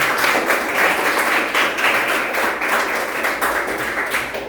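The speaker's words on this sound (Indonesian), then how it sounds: "Beri tepuk tangan" A class of students applauds during a lesson, steady dense clapping from a roomful of people, close and loud, lasting a few seconds without talk.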